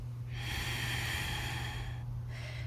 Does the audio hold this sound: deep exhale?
yes